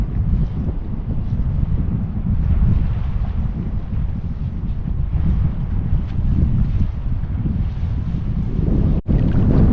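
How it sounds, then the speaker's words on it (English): Strong wind buffets the microphone beside a lake during wing foiling, a loud constant rumbling roar with a brief dropout near the end and no speech. "Quite enough wind."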